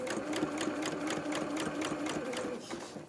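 Sewing machine running steadily while stitching fabric for a small doll's cap, a continuous close, rhythmic needle whir with no pauses.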